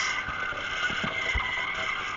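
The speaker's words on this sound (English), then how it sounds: "Listen to that engine." A Mazda RX-8 build in Need for Speed Undercover, its engine drifting with a steady, loud, sustained drone under wheel and surface noise through a short stretch.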